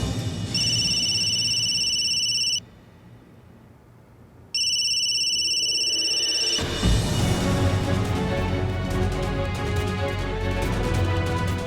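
A phone ringtone repeats in two long electronic bursts with a pause between, then cuts off unanswered into a low rumbling background.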